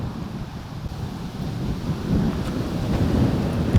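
Strong wind buffets the microphone outdoors, a continuous low rumbling roar that swells louder toward the end, with no talking.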